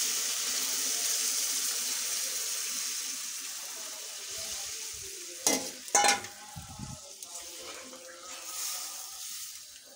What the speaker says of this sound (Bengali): এখন আমি হালকা ঝোল দিয়ে দিব, তারপর এটাকে আবার কষি।